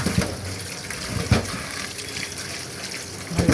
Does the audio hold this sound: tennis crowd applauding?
no